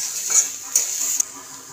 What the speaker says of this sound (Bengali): এবার আমরা নেড়ে নিচ্ছি